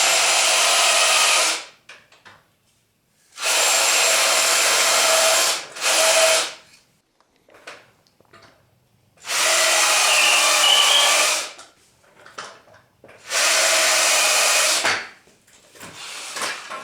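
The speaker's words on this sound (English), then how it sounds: "Now that I've got some pilot holes started, I can use the base as a table and I can just simply drill straight through." A power drill bores pilot holes through the wooden base of an upcycled plant caddy stand, running in four loud sustained bursts of about two seconds each, separated by pauses with faint handling knocks.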